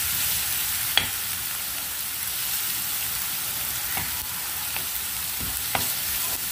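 Chopped onion fries in hot oil with a steady, broadband sizzle throughout, punctuated by a few faint sharp clicks of a spoon or pan, while sweet potato bread roll snacks are being prepared; no one speaks.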